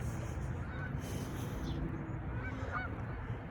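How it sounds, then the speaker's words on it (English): Canada geese honk repeatedly in a steady chorus close by during an outdoor walk, the calls overlapping with no clear gaps over low background noise. "Do you hear the Canadian honkers?"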